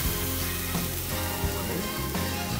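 Red wine poured into a hot roasting pan after roasting game hens hisses and sizzles steadily and loudly, a continuous crackling wash with no talking.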